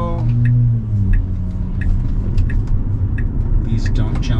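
A car engine rumbles nearby and passes by, with steady low road noise throughout.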